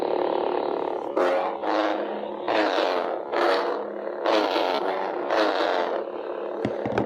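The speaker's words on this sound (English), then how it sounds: "Got that wind sound effect going in the snowstorm." Howling snowstorm wind from the Hoth sound font of a custom Return of the Jedi Luke Skywalker lightsaber, rising and falling in several loud, breathy gusts, steady and close with no talking.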